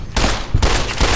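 Three rapid, loud gunshot blasts from Fallout: New Vegas, each a broad burst with a heavy low thump, fired about half a second apart and close up.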